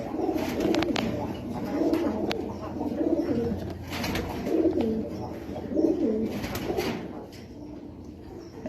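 Lahori pigeons on a pigeon farm coo steadily in low, throaty rolling phrases. Several birds are close by, with faint chirps and light rustling mixed in.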